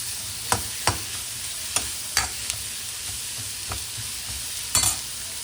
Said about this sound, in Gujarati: હાઈ ફ્લેમ ઉપર બધાને શેલો ફ્રાય જેવું કરી દેવાનું છે.